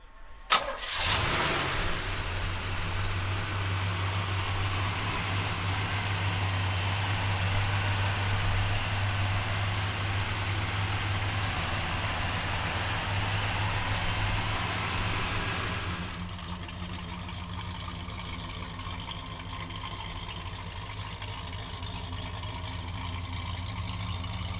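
A 1966 Pontiac GTO with a 400 engine cranks and catches, then settles into a steady, loud, rumbling idle close by that continues for about twenty seconds, growing slightly quieter toward the end.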